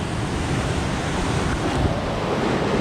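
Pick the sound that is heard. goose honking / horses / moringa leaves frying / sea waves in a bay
sea waves in a bay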